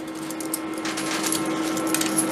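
Coins drop and clatter inside an arcade coin pusher machine, a brief run of bright metallic jingles over a steady machine hum.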